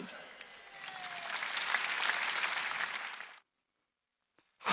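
Congregation applauding at a Sunday church service held in an arena hall, a broad sustained clapping that swells and then cuts off abruptly into silence, with a faint burst at the very end.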